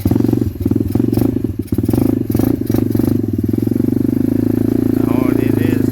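Pit bike engine with a clutch and 4-speed gearbox ridden through the woods, a close, loud, steady buzzing putter with rattling clatter; a voice can be heard briefly near the end.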